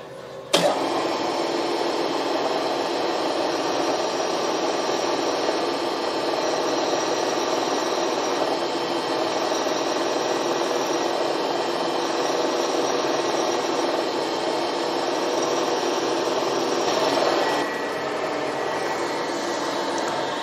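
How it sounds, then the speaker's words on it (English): Drill boring holes for pinion shafts in a spur gear for a differential, a steady, continuous grinding whir close by that runs for most of the clip before cutting off, alone without talk. "So let's get on and drill the holes."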